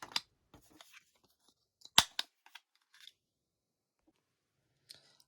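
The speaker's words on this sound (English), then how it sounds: "take your punch, as I say, decorative or just a plain corner punch is fine, and punch out the corners" A decorative corner punch snips the corners of card pieces, giving a few sharp, isolated clicks and crunches with quiet gaps between them, one snap noticeably louder than the rest.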